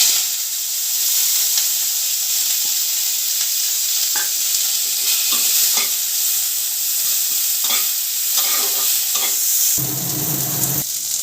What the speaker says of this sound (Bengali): পেঁয়াজ দিয়ে দিচ্ছি ভাজার জন্য।